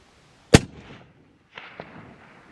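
A single loud, sharp rifle shot cracks out while deer hunting, followed by a brief rolling echo, then quiet outdoor ambience with a faint later knock.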